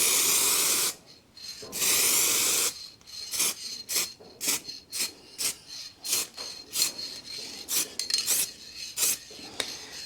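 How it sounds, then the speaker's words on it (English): Aerosol can of clear lacquer sprayed onto the bumper of a BMW E91 330d, close by: two long, steady hissing blasts followed by a rapid run of short, sharp bursts, with no talking. "First coat, be a bit further away and not too heavy."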